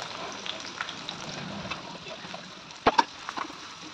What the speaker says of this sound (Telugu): ఉల్లిపాయ పచ్చిమిరపకాయలు వేసేసుకుందాం